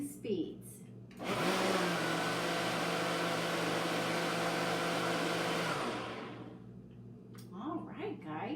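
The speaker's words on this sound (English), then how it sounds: "Some blenders will have an ice crushing feature." A countertop kitchen blender whirs loudly for about five seconds while blending a green smoothie, a steady motor roar that then winds down, with talking before and after.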